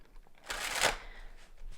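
A deck of tarot-style cards shuffled by hand, one brief riffling burst rising and fading over about half a second, close and fairly clear without speech.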